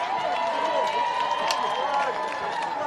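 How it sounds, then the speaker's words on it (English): A stadium crowd roars and cheers at full time of a men's football semi-final, a broad sustained wash of noise with scattered whistles and claps, while a commentator talks over it. "have a listen to the crowd"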